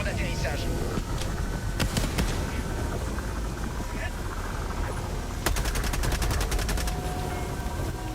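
Gunfire and explosions from the video game Helldivers II, with rapid automatic bursts, sharp blasts and a clattering volley near the end, all under a player's voice.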